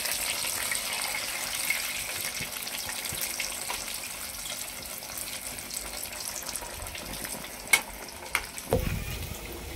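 Potato snacks fry in hot oil with a steady, fairly soft bubbling sizzle. Near the end come a few sharper clinks and a louder rustle as the pieces are handled, with no speech.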